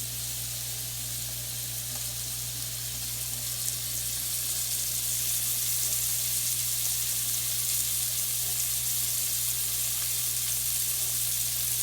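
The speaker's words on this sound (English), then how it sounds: "So we're going to cook it right here in the skillet. And we're going to go for just about a minute on each side." A venison loin searing in a hot skillet, browning about a minute per side, giving a steady, dense, hissing sizzle that holds evenly from start to finish, close and fairly loud with no voice over it.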